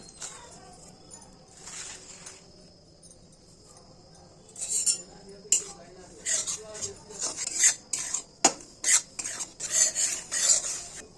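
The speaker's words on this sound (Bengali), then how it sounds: "এখন চালের গুঁড়ো শুকনা কুলায় বেজে নিব" Dry rice flour stirred in a pan while being roasted, with a metal utensil scraping and clinking against the pan in irregular bursts that grow louder and busier partway through, over a faint background hum.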